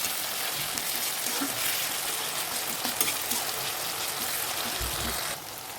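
Tomato and onion fry in a pan for a fish curry, giving a steady close sizzle with soft stirring clatter throughout, fading slightly near the end.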